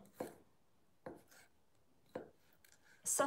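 A knife chops sausages and vegetables for soup on a cutting board, four separate sharp cuts spaced about a second apart, close and fairly quiet, with no talking.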